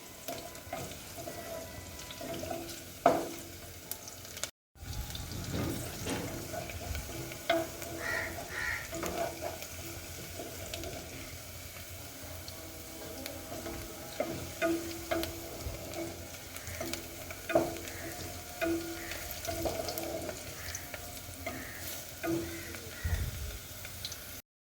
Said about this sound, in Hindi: उसके बाद हम इसमें कीमा ऐड करेंगे।